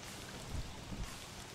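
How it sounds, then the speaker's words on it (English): Steady hiss of rain in the game Don't Starve Together, a dense, even wash with a couple of soft low thumps underneath. "I'm gonna go stand out in the rain and hope I get struck by lightning"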